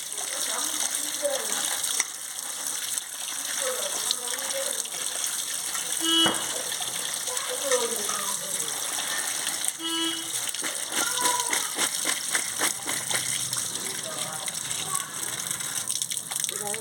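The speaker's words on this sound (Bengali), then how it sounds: "আমি ধুয়ে নিচ্ছি আলু বেগুন কচু সব ভালো করে ধুয়ে নিচ্ছি" Tap water gushes while potatoes, eggplant and taro are rinsed by hand, a continuous close splashing and rushing with clatters and knocks as the vegetables are handled, and a voice talks briefly in the background.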